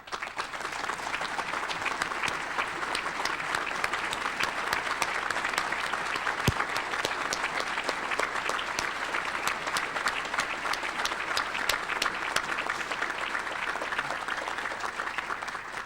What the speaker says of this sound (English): please rise and accept our applause